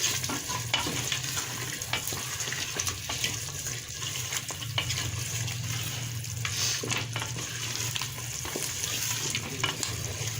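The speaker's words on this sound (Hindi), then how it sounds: "आलूओं की 5 मिनट तक भुनाई करनी है।" Potatoes sizzle and fry steadily in a pot for an aloo gosht curry, with occasional clinks and stirring sounds over a constant crackling hiss.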